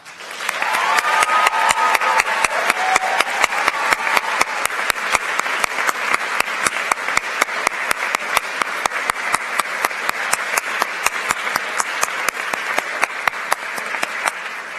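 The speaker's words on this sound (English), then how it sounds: "Writers and artists, please rise to receive our applause" Sustained applause from an awards ceremony audience honoring student writers and artists, dense steady clapping with individual sharp claps standing out throughout, a faint voice briefly audible near the start.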